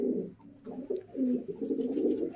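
A saleti kamagar pigeon coos close by in soft, repeated low rolling phrases with brief pauses between them. No other sound competes.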